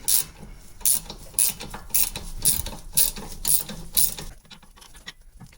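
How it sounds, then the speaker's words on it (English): Ratcheting wrench clicking in quick repeated bursts, about seven strokes, close and fairly loud, while an Allen wrench holds a spinning bolt on the front passenger lower control arm of a 2011 Toyota Sienna; the strokes stop near the end. "with an Allen wrench and a ratcheting wrench, you see the whole thing is spinning"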